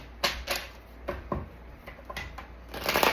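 Tarot cards riffle and snap in several quick bursts, close and fairly quiet, ending in a longer flurry of shuffling.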